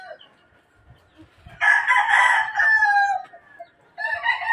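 A lateborn pure Raptor sweater bloodline gamecock crows loudly and close by in one long drawn-out call, then starts a second crow, with faint low clucks beforehand.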